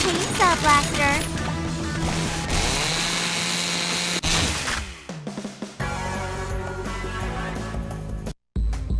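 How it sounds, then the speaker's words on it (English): Chainsaw Blaster weapon firing and revving in the video game Lollipop Chainsaw, a loud buzzing mechanical roar mixed with game music and effects, with a short drop to silence near the end. "Chainsaw Blaster."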